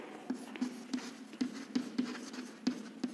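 Pen writing out a definition on paper in a classroom lesson: faint, close scratching strokes in a steady, evenly spaced rhythm of short marks.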